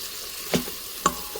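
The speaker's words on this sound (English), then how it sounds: "scraping the bottom, getting all those really good crusty bits off" Two short scrapes of a utensil against the bottom of an Instant Pot, lifting crusty browned bits during sautéing for green goddess chicken. The scrapes are close and separate, over a soft steady sizzle.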